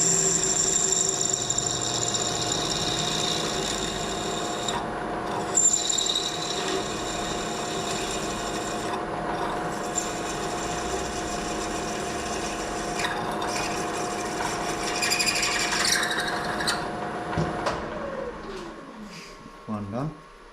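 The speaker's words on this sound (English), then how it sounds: "So it's a simple matter really of just drilling the holes." A drill whines steadily while boring holes in telescopic bicycle seat stays, its tone holding for a long stretch and then spinning down to a stop, with someone talking over it.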